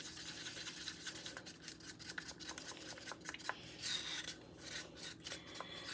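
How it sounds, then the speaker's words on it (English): Red paint mixed with Mod Podge is stirred in a small container, a soft, close scraping and swishing with light taps against the sides, quiet and unhurried with no voice. "So when you mix it up with the Mod Podge"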